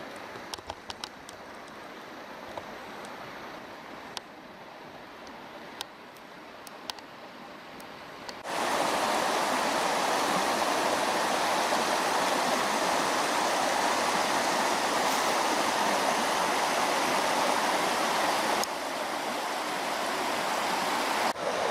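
Water rushes steadily along a cold creek used for gold panning. The flow is moderate with faint clicks at first, then becomes a loud, dense, continuous wash after about eight seconds, with no talking.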